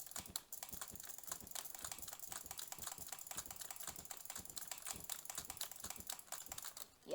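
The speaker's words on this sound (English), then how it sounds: "basically I spam click when I diagonal speed bridge" Rapid, relentless mouse clicks rattle along without pause while speed bridging in Bedwars, a fast, close, crisp tapping that stays steady and dense throughout.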